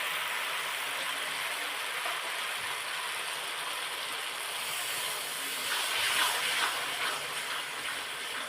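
Water hits a hot pan while chilli paneer cooks, producing a soft, steady steamy hiss that swells briefly toward the end.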